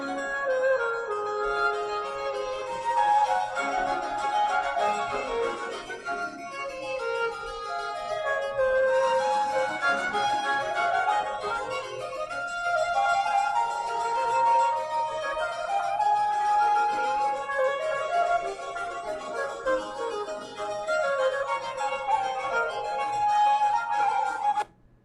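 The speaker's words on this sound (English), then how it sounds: "So the concertino is going to sound like this." A J.S. Bach Baroque concerto concertino passage plays steadily with interweaving melodic lines from a small solo group, moderately loud and sustained throughout, with no talking.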